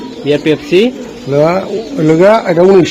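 Racer pigeons in a loft give soft cooing calls, interleaved with and partly under close conversational speech.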